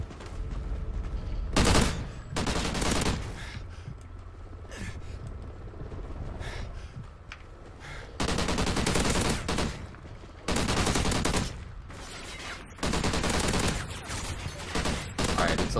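In the video game Call of Duty: Black Ops 3 Safeguard on Warhawk, a light machine gun fires in loud sustained automatic bursts, several long strings of rapid shots separated by short pauses, close and dominant, with fainter distant gunfire between the bursts.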